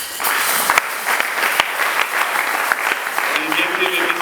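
A church congregation applauds steadily and loudly close by, the clapping sustained throughout while a voice talks over it.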